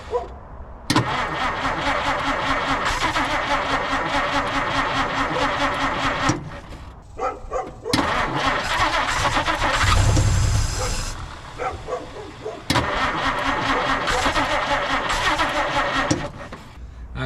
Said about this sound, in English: So let's crank on it and see if it'll start.